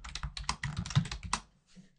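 A quick run of close keyboard taps while typing a page name on a computer keyboard, then a short pause and one faint final click.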